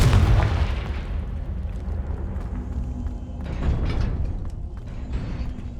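Confringo spell explosion in a Harry Potter video game: a heavy, booming blast at the start rolls into a long rumbling tail, with smaller crackling bursts following, loud and close.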